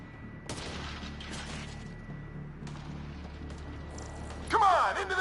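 Enemy gunfire in a video game rattles through a tense battle scene as a steady fusillade of shots and booms, with a sharp louder burst near the end, while voices talk over the action.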